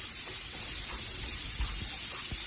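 Tomato dal ingredients fry in a hot pan, giving a steady, close hiss and sizzle with a few soft bumps underneath.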